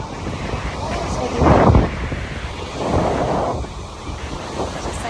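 Blustery wind buffets the microphone at Zushi Beach on a cloudy day, with a steady roar of surf underneath and two louder gusts swelling briefly. A voice may be faintly present.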